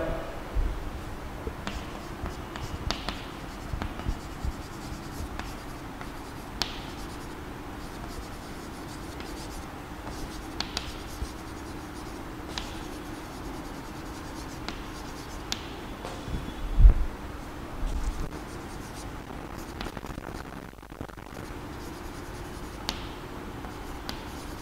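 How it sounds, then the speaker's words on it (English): Pen or marker writing on paper or a board during a Class VII maths lesson: a long run of soft, close scratching and tapping strokes, steady and quiet, with one brief louder knock partway through. "Let me write it down."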